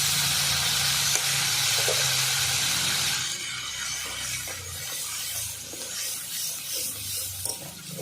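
Onion paste hits hot oil with two cloves and black cumin, giving a loud, bright sizzle. After a few seconds it settles into softer frying, broken by scraping stirs of the pan.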